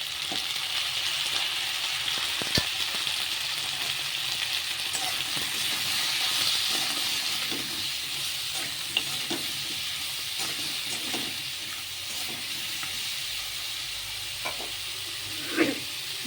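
Pieces of pointed gourd, potato and pumpkin fry in hot oil in a pan with a steady, bright sizzle throughout, broken by a few soft stirring clinks.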